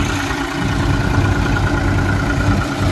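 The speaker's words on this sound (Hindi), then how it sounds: "35 HP का ट्रैक्टर है और हमारी मशीन पे बहुत बढ़िया चल रहा है" A steady, loud 35 HP Mahindra 275 tractor engine drones continuously with a low rumbling throb, running a thresher evenly throughout without pause.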